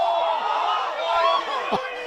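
Spectators at a Nairne Hills Football League game booing and jeering a decision in a sustained, swelling crowd roar of disapproval, a commentator talking over it.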